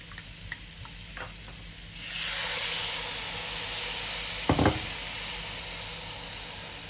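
Red wine poured into a hot pan to deglaze it bursts into a loud, steady sizzle after a few quiet clicks, with a sharp scrape of a utensil across the pan bottom partway through as the brown bits are lifted.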